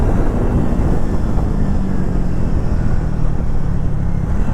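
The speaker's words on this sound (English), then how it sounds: "I am in mood to open this bike further" A Triumph Thruxton 400 motorcycle pulls hard through city streets, its engine a loud continuous roar mixed with dense wind rush, steady and close throughout.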